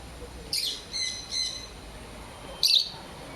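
Bright, high chirping calls from a bird at an aquarium: a few short bursts near the start, a brief pause, then one more sharp call, heard fairly close over a quiet background hiss.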